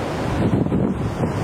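Tasman Sea waves wash in a broad rushing roar while wind buffets the microphone, loud and close, with no voices.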